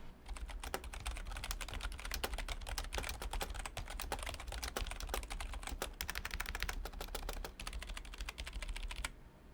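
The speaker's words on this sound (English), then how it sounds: "Here's a quick sound test of the Logitech G213." Steady typing on a Logitech G213 membrane gaming keyboard, rapid soft key clicks in a continuous close-up stream with brief pauses, then stopping near the end.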